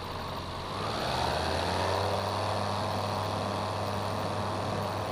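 An experimental light aircraft engine holds a loud, steady drone during takeoff from runway 33 right, rising slightly in strength after the first second and staying constant, close and without voices.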